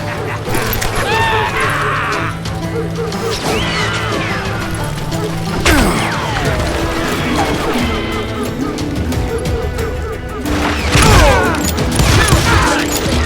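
Covering gunfire in a Call of Juarez: Gunslinger shootout, scattered shots and crashes over dense game music and ambience, with shouted voices in between.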